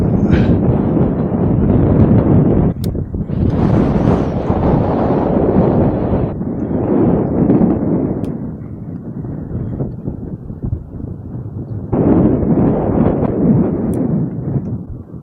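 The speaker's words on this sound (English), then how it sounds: "That's windy now." Strong wind roars and buffets the microphone continuously, surging and easing in heavy gusts without a break.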